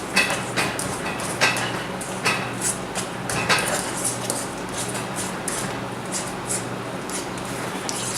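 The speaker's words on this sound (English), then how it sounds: "I mashed it up with a fork for about 4 to 5 minutes" Cooked egg yolks for deviled eggs being mashed with a fork in a bowl, a quick irregular series of close scraping clinks and taps against the dish, with no talk.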